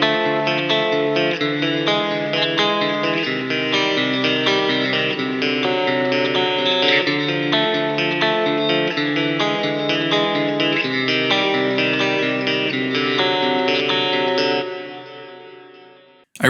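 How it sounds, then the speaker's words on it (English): A clean electric guitar overdub in a modern metal mix, played before the solo with chorus and echo effects, ringing steadily at full level for about fourteen seconds, then fading out alone with no voices. "The last element in this mix is the clean guitar overdub before the solo"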